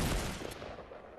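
A rapid burst of gunfire from the video game Fortnite, loud and dense at first, then thinning into scattered shots over a little more than a second.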